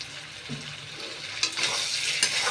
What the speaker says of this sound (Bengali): আমি খুব ভালোভাবে নাড়িয়ে নিচ্ছি